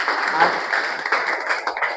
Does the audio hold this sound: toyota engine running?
no